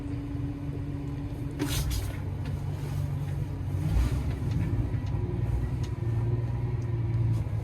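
DX27-7 compact machine engine rumbling steadily as it pulls up onto a garden heap, a low continuous drone with slight rises in load.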